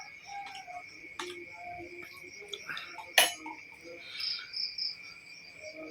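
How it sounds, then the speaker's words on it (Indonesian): Crickets trill in a quiet night setting, a steady high continuous chirp running throughout, with faint scattered bird calls and one sharp click cutting through, all soft and fairly distant. "Jangkrik padha krik-krik"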